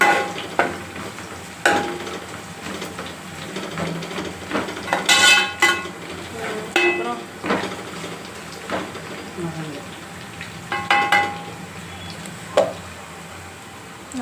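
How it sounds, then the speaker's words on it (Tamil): Ground masala sautéing in a pan for a sardine curry, giving a low sizzle with scattered sharp scrapes and clinks of stirring, while a voice talks over it. "நல்லா வதங்குது."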